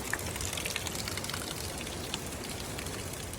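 Water trickling through a cut bamboo channel on a hike near Cascade Blanche in Salazie, Réunion, a steady close splashing and dripping patter, alone without talk.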